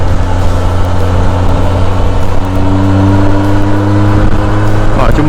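A car's engine drones loud and close on a winding road with a sharp bend ahead, a steady hum with slight rises in pitch as it accelerates to overtake a long trailer.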